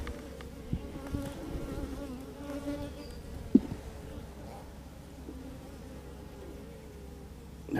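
Angry honeybees buzz steadily around an opened hive holding queen cells and brood, a dense, close droning hum that continues throughout with a few brief knocks.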